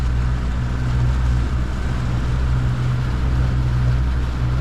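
A Glasply 19 boat's outboard motor cruises at steady speed, a loud, constant low drone with water and wind rushing alongside, no voices.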